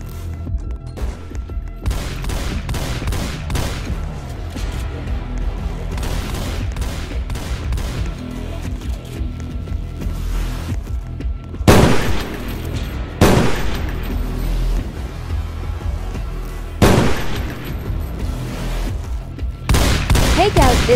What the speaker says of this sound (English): He's taking a lot of shots.